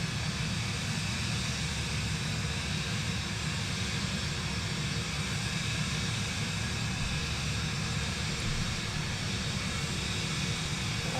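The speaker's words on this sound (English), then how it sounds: "I know this plane is a little loud" Aircraft engine in Microsoft Flight Simulator 2024 on a night flight over snowy Finland from Oulu to Tornio: a loud, constant broadband roar with no breaks, heard alone for about eleven seconds.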